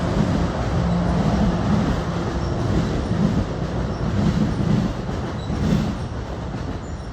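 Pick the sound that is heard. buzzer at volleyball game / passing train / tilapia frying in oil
passing train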